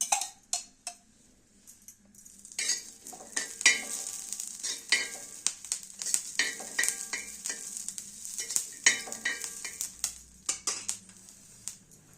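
Tender green chillies roast in a little oil in a pan, giving a soft, steady sizzle broken by frequent light scrapes and taps of a spatula stirring them.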